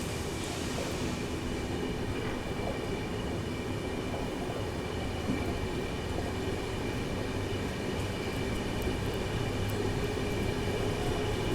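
An AP Express passenger train picking up speed on the main line between Nagpur and Delhi, heard from inside as a steady, continuous rumble of wheels and carriages with no voices.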